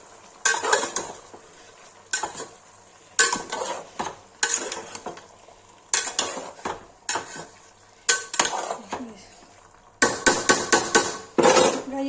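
A ladle stirs chicken and yogurt in a metal pan with repeated rhythmic scraping and clanking strokes. The strokes come in short clustered bursts, close and clear, with a light sizzle under them.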